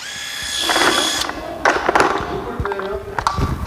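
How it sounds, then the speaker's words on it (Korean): An 18-volt cordless impact wrench fires in short bursts, a rattling mechanical whir that starts, stops and restarts in a busy tool auction space, close and fairly loud. "임팩 렌치 예 임팩 렌치"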